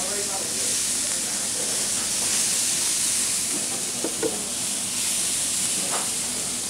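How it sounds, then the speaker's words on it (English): Leeks sizzling in olive oil in a hot pan, a steady close hiss and crackle that runs unbroken, with a few brief clinks. "I'm just heating up my pan at this point, and we'll saute the leeks. A little bit of olive oil."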